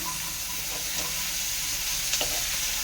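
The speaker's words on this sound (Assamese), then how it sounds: "এটা আলু দিছোঁ খালি। ভালকৈ ভাজিম" Potato cubes frying in hot oil in a pan while making a jackfruit curry, giving a steady, close, continuous sizzle with faint stirring clicks throughout, no voices.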